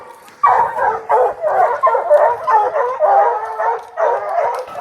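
Hounds bay, bark and howl at a bear treed during a spring bear hunt, several dogs close and loud in a continuous chorus of overlapping yelps and howls.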